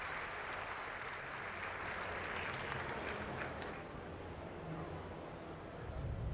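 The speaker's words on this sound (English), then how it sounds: "That was the most polite clap ever. Just clap and done." A short burst of polite applause from a crowd, a moderate even patter of clapping that carries on for several seconds at a fairly quiet level and tapers near the end.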